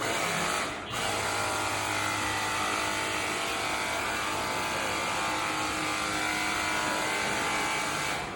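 A DingQi 21V 250-watt cordless pressure washer runs with a steady electric motor whine and hiss, starting after a brief dip and then holding at an even, close level.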